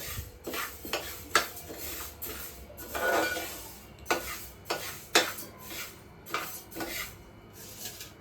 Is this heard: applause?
no